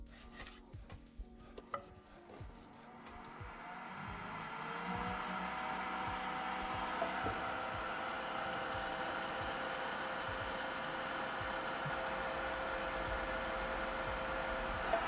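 Steady broadband whoosh of fan airflow through a noise-reduction mod on a 3D printer, a few light knocks at first, then a constant hum with faint tonal lines that holds for the rest.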